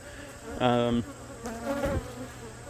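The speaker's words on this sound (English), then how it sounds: "a bee trying to sting my phone" A honeybee buzzes close to a phone at a beehive, two loud, short bursts of droning hum a moment apart, with quieter background between.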